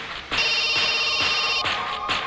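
A telephone rings during a call in an action movie scene, a bright electronic trill repeating in steady bursts, loud and close with no talk over it.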